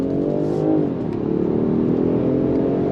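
A 2025 Range Rover Sport Autobiography plug-in hybrid SUV accelerating hard on throttle, its engine note rising steadily and staying loud and close from inside the cabin for nearly three seconds, with no talking.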